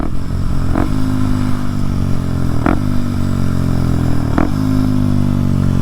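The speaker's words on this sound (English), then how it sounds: "Now Kawasaki, on the other hand, this 230cc of pure fury," A Kawasaki 230cc motorcycle engine runs steadily and loudly close by, with its even drone broken by three brief clattering knocks spaced about two seconds apart.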